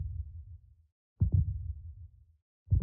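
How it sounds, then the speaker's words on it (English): A low, throbbing heartbeat sound effect plays in Minecraft near an Iron Golem. Deep double thumps repeat at a slow, steady pace, each fading into silence before the next one. "we will start getting the heartbeat sound"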